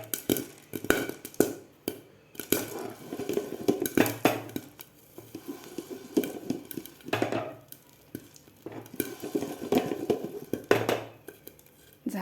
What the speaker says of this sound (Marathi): मस्त फुटत आहेत लाह्या.